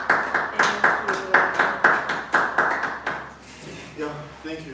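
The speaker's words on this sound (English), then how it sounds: "A round of applause as it comes up again." Sparse clapping at a live app launch event for a company offering visa and education pathways, about a dozen distinct claps in an even rhythm before fading, followed by someone beginning to speak.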